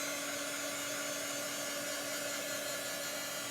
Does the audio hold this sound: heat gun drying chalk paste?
yes